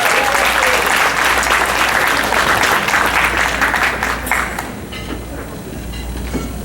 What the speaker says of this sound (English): give a nice round of applause to our tonight's keynote speaker, Dr. Hernandez.